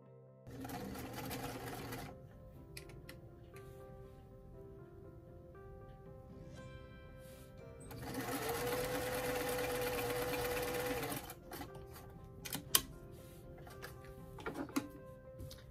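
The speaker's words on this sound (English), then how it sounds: "we're going to go ahead and sew the front to the back at the side seam" A sewing machine stitching the side seam of a doll top with a peplum, with a steady whirring run of a few seconds in the middle and quieter handling noises before and after.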